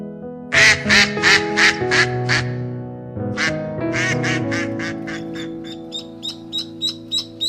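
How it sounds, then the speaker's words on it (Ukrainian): Ducks quack loudly in a rapid series of nasal calls, with smaller, higher quacks following toward the end. "А це поважно чалапає родина качок тато качур, мама качка та маленькі каченятка."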